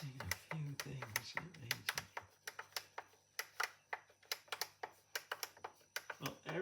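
Keys on a KORG Prophecy synthesizer are pressed in a quick series of crisp, tactile clicks, some two dozen faint taps close by in a quiet room, with a little indistinct voice at the start.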